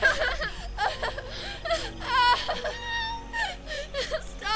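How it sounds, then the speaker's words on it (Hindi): Someone crying as a sound effect in a horror story set in a cold, deserted area at night, wavering sobs and whimpers with shaky breaths, close and fairly loud, alone. "उन्हें किसी के रोने की आवाज साफ साफ सुनाई देती है"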